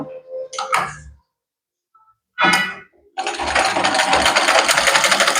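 A sewing machine stitches a chudidar zip, starting with a couple of short stuttering bursts and then settling into a steady, close mechanical whir that runs to the end.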